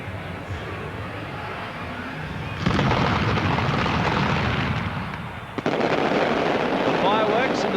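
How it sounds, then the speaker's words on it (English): Fireworks crackle and boom in the distance at Bruce Stadium in Canberra before a 1997 rugby league match, with bursts swelling into a sustained, loud rumble over crowd noise while a commentator talks. "The fireworks in the background signalling that we're just about set"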